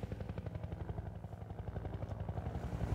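Combat helicopter in the shooter game Half-Life 2, its rotor beating in a fast, steady low thumping pulse, moderately close and unbroken across the moment.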